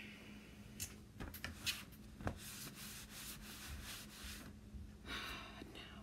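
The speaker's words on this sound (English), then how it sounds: "This is what we do when we sand in our studio, which is not our garage." Hand sanding of a rustic wooden pallet indoors in a studio, heard as close, quiet rhythmic scraping strokes in short bursts, with a faint low hum underneath.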